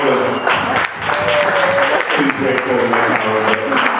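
Applause from wedding guests celebrating a couple, a loud steady wash of clapping that continues throughout, with people talking and cheering underneath.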